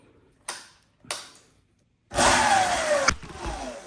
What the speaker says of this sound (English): let's see if the throttle works again